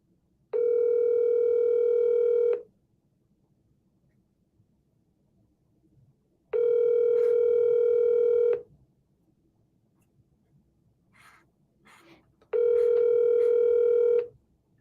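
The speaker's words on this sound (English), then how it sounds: "Xenia, we don't leave voicemails, we double dial." A telephone call's tone sounds in three steady two-second bursts spaced about six seconds apart, loud and clear over a quiet line, with faint clicks between them and no talking.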